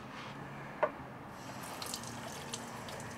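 A sink faucet runs water in a steady, faint hiss, with a brief click near the start.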